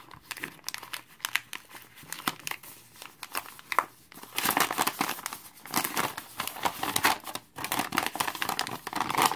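Packaging around a handmade leather wallet rustles, crinkles and tears in bursts as it is unwrapped close by, growing louder and denser in the second half.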